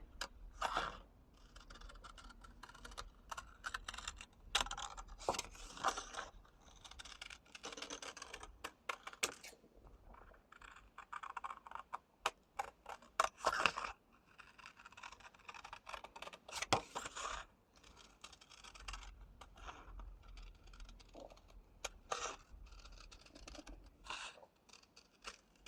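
Scissors snip around a paper circle for a handmade vintage scrapbooking card, giving close, quiet, irregular cutting clicks and crunches that come in short clusters with brief pauses.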